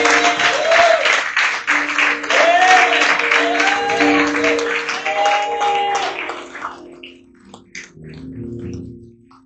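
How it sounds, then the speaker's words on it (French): A church congregation at a Sunday service claps loudly together while voices chant and sing along, the applause thinning out toward the end. "On acclame le Seigneur, on acclame le Seigneur."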